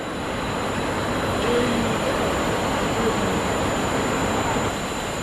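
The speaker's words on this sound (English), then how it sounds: "Passengers join the train, and a clean departure is made from Paddington" Steam locomotive 3440 City of Truro departing London Paddington with a passenger train, a continuous broad rumble of wheels and motion, steady and fairly loud with no clear exhaust beats standing out.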